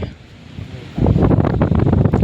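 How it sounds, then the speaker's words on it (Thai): Strong wind buffets the microphone outdoors on a morning in nature, a low rumbling roar that starts softer and then surges loud and steady partway through. "ลมแรงจังเลย"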